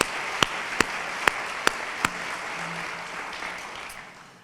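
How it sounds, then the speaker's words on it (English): Audience applause for the leadership of the Tanger Center at its 2024 State of the Center event, a steady wash of clapping from a crowd with a few sharper claps standing out, fading toward the end. "let us give you a round of applause"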